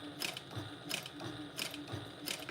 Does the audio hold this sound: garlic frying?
no